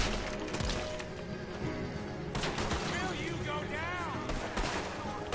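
Video game gunfire crackles in repeated bursts through a busy, loud mix, with a voice talking over part of it.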